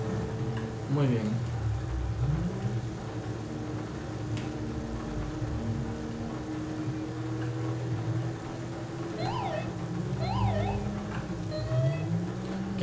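Siren wails from a police car in GTA V with the LSPDFR mod, rising and falling warbles sounding in brief bursts over a steady engine drone and background noise.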